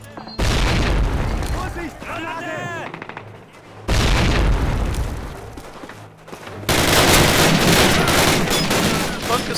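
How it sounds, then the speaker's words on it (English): Call of Duty gunfire and explosions during a Belgian bunker rush: loud, dense bursts of machine gun fire and booming blasts in three heavy stretches with short lulls between them. "If that thing's firing, that means there's dudes over there, and that means there's dudes to be exploded."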